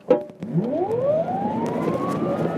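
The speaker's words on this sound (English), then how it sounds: "I'm going to be quiet now and do a launch just up to 30" A Bugatti electric car launches hard up to about 30, its motor whine rising steadily in pitch and loudness after a short thump at the start, a continuous sweeping tone with no talk.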